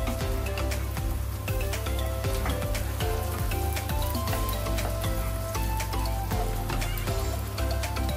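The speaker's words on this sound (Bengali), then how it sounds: "তেলের মধ্যে আমি পেঁয়াজের সাথে একটু ভেজে নিই।" Prawns sizzle and crackle in hot oil, a steady dense frying sound with scattered pops, close up and with no talking.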